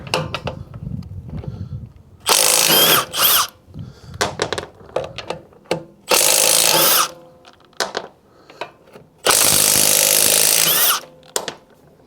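A power impact tool spins off the wheel nuts of an Abarth 595 in a garage, in three loud sustained bursts of about a second each, separated by quieter clinks and handling of tools and parts.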